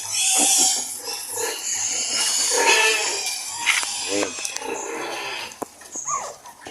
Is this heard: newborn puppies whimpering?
yes